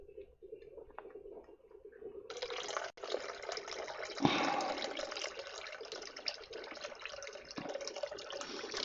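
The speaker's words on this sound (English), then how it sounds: "I'm just going to pour off just a little bit of it" Beer liquid poured off the top of settled yeast in a home brewing vessel, a soft trickle swelling into a steady, continuous stream of pouring liquid, heard alone.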